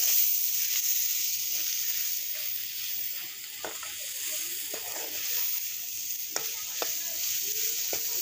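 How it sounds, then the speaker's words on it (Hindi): Masala sizzles and crackles steadily while frying in a pan, close by, with a continuous hiss broken by occasional sharp pops and faint stirring scrapes, and no one speaking. "अभी हमारा मसाला भून चुका है।"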